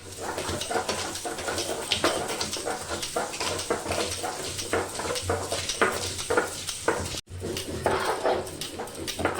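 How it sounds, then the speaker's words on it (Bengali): Hand-grinding of ginger and green chilli for a Bengali white paneer dish gives a steady, rough scraping and pounding close by, repeating rhythmically with one brief pause. "তো আমি একটু আদা আর একটু কাঁচা লঙ্কা বেটে নেব।"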